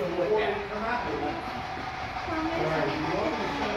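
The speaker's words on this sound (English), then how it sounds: "There's another train running on this track too." A train rumbles steadily along the track nearby in Clarksburg, West Virginia, a continuous rolling roar with faint rail clatter throughout.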